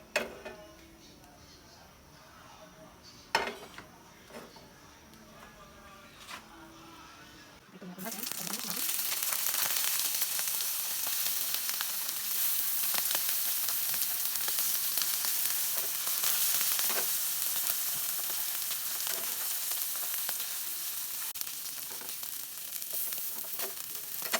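Smoked fish (tinapa) fries in coconut oil: after a few quiet clicks and taps, a loud, steady hiss of sizzling starts and carries on close up for the rest of the stretch.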